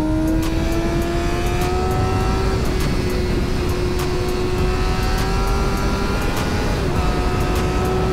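A Suzuki GSX-R 750 sport bike accelerates on a highway, its engine note climbing steadily and dropping back briefly as it shifts up through the gears, loud and close over constant wind rush.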